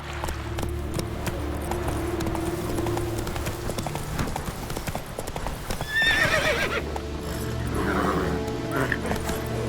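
A horse in The Witcher 3 gallops with steady clip-clop hoofbeats over a rumbling game soundscape, then lets out a loud, close neigh partway through.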